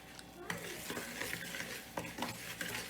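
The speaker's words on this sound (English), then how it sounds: "Now I'm going to use the spoon, because if you use the whisk, it gets stuck in the whisk, to mix the Play-Doh." A spoon stirs homemade playdough ingredients in a bowl, making quiet scraping and soft knocks against the bowl in an irregular rhythm, faint and close, with no talking.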